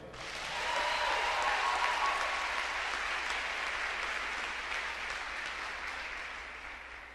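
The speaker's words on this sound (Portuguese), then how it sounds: "Quem está me entendendo pode se aplaudir" A church congregation applauds during a sermon, a broad wash of clapping that swells in over the first second and holds steady, slowly tapering toward the end.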